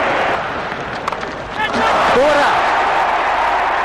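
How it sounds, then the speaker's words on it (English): A cricket crowd roars loudly at a one-day final between India and Australia in 1986, a dense sustained cheer swelling and holding, with a commentator talking over it. "He made higher and wider, the crowd go wild."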